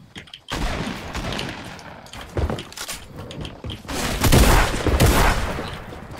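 Rapid bursts of gunfire from a first-person shooter video game, several loud volleys with sharp impacts and a heavier cluster near the end, with no talk over them.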